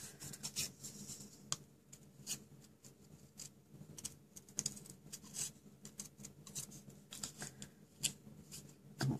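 Scissors snipping cardstock while trimming pieces for a handmade thank-you card, with many quiet, close, irregular clicks and paper rustles.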